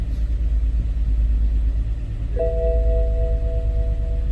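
A car engine idles with a faulty ignition coil misfiring in the third cylinder, a loud, close, steady low rumble, joined partway by a sustained electronic tone.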